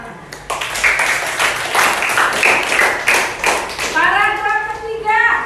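Schoolchildren clap together in a sixth-grade primary classroom, a loud run of sharp rhythmic claps that continues to the end, with a voice talking over the last part.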